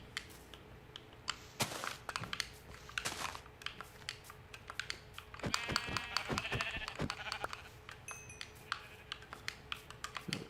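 Sheep bleating in the video game Minecraft, a few faint bleats surfacing amid clicky keyboard taps and scattered tapping noises, quiet and distant.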